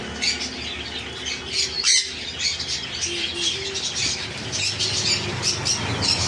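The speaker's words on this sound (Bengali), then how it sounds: "পাখিটা খুব রেয়ার পাখি ব্লু ইয়েলো সাইড কোনো" Blue yellow-sided conure parrots squawking repeatedly, sharp harsh calls in irregular bursts close by, with other birds chattering in the background.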